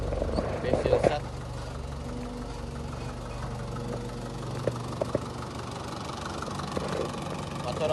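A 2020 Somolion 1304 tractor engine idles with a low, steady throb and occasional knocks and clanks, while someone talks over it.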